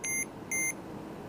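A Bluetooth anti-loss key tracker sounding two short electronic beeps in succession, clear and close, followed by a brief sharp chirp at the very end.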